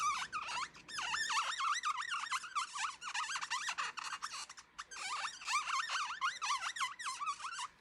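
An alcohol ink marker squeaks repeatedly across Grafix film while brown ink is added to a holiday wreath, producing rapid high-pitched squeals in dense back-to-back bursts, close and alone.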